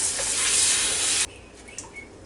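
Tap water running hard into a kitchen sink to rinse a corned beef packet, a loud steady broadband rush that cuts off abruptly partway through, leaving a quieter room with faint clatter.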